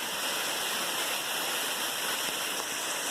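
Mountaineer Falls, a waterfall on the Appalachian Trail in Tennessee, pouring with a dense, constant hiss and roar, close and loud, with no voices.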